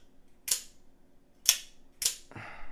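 A Hyper Blades Tanto out-the-front knife snaps its blade out and back: three sharp, crisp metallic clicks about half a second to a second apart, close to the mic, followed by a softer rustle, with no voices.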